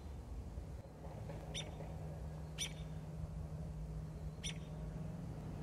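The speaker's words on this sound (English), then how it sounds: "in the background, hear the mama bird squawking right now because I'm just a little too close" A mother robin squawks near a nest of baby robins in a half-acre backyard, giving three short, sharp calls spaced about a second apart over a steady low outdoor hum.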